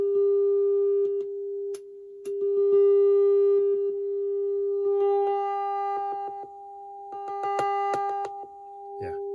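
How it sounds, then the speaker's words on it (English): A 400 Hz tone modulated onto a 1 MHz carrier, heard through a guitar amp used as a signal tracer: a steady electronic hum that cuts out and returns several times, with clicks and brief pulsing beeps. "So this is modulating a 1 megahertz wave with a 400 hertz tone"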